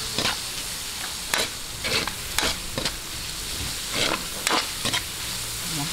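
Ground pork or meat sizzling with sautéed onions in a pan, with steady frying hiss broken by repeated scraping stirs of a spatula, close and moderately loud with no talking.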